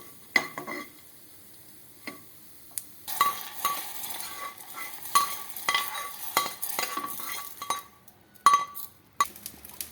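Almonds and pistachios fry lightly in ghee for milk payasam, giving a soft sizzle broken by stirring scrapes and clinks of a metal spoon against the pan, close and with no talk.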